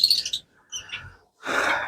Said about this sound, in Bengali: এখানেও এক পেয়ার পাখি আছে লাভ বার্ড